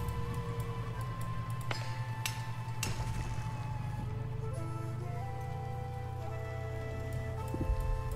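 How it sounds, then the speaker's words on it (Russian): Steady rain patters in the video game The Wandering Village over a low, droning background hum, with a couple of sharp ticks and clicks standing out along the way. "Дождик пошел."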